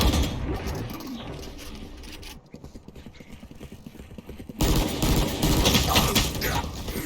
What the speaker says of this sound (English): So much blind firing through smoke and it just bites Syro back